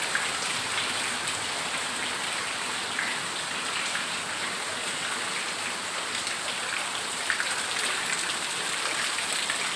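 Steady rain falls as a dense, even hiss, with occasional nearby drops standing out briefly.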